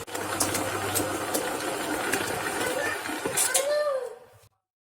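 A stand mixer kneads bread dough for eggless Hokkaido milk bread, a steady motor whir with rhythmic knocking close by, stopping abruptly near the end.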